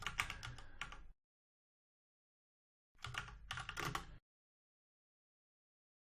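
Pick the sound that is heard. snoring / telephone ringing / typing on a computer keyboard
typing on a computer keyboard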